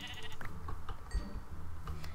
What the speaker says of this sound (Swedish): Jag bara tar alla får jag ser